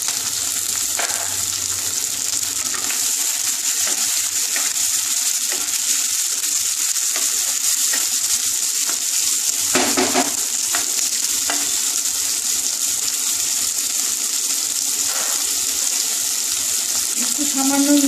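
Tomatoes hitting hot oil in a pan for a mustard-based bata fish curry, a loud continuous sizzle with occasional clinks and scrapes of stirring.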